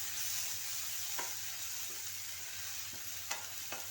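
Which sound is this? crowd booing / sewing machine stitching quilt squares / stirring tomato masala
stirring tomato masala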